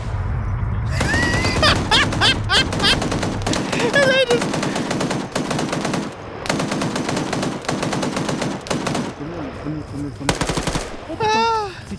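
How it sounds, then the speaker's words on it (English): Rapid machine-gun bursts and scattered gunshots crackle through a US Army vs US Marines video game match, loud and nearly continuous with short pauses, while commentators talk over the fire. "Hearing that gunfire come in."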